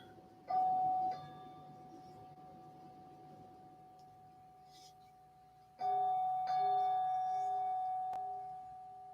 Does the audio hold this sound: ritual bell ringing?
yes